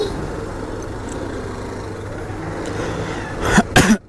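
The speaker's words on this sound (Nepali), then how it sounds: "यस्तो घाँटी खस खस गरेर खोकी लगाइरहेछ" A person with an irritated throat gives a short burst of two or three harsh coughs near the end, loud and close, over steady traffic and engine hum from a nearby road.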